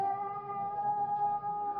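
A cat howls in one long, steady, wailing tone that holds for the whole stretch, loud and close, as a dramatized sound effect.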